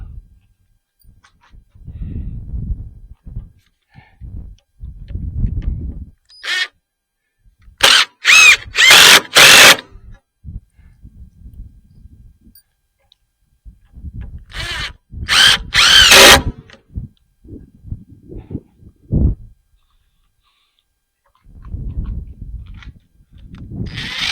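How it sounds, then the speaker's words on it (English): A power drill drives screws back into place in two bursts of loud whirring, each a cluster of short pulses, with quieter handling knocks and shuffling in between. "Now, put our screws back in."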